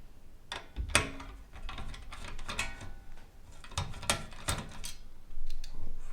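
Torx TX15 driver unscrewing the carriage case screws of a Macintosh SE, a run of small clicking and ratcheting ticks with a few sharper taps, close and quiet.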